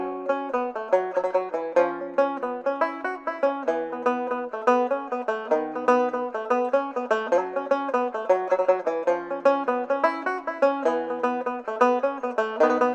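Fiddle-like melodic instrument playing a slip jig tune in lively 9/8 triplet rhythm, its opening marked by a descending bass line, steady and close with no talking.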